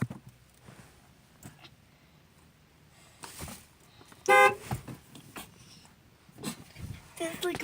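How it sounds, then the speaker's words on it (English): A car horn gives one short, loud honk as a prank, with a dog whimpering and barking and people talking nearby before and after it. "Honk the horn."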